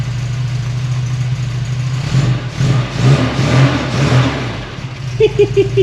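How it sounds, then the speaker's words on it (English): An old, long-abandoned Volvo wagon engine runs rough and uneven, then gets a few short blips of the throttle, loud and close, with a brief voice near the end. "Give it a couple revs for me"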